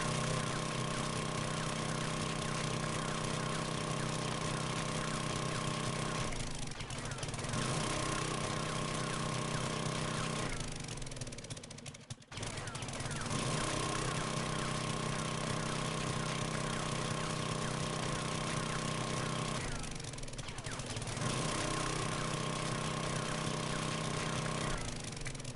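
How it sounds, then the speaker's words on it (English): A 600 auger drills through ground and rock in the game 7 Days to Die, in a desert biome: a steady droning motor whine that runs in long stretches, broken by brief pauses. "Yeah, absolutely glad to have the 600 auger going."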